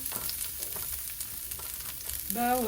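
Garlic frying in a pan for beef kaldereta gives a steady close sizzle with stirring scrapes, and a rising tonal squeal at the end.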